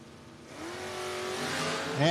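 A Ray Barton Camaro drag racing car at a No-Box 660 Shootout, engine noise swelling and rising in pitch over about two seconds, with an announcer talking over it.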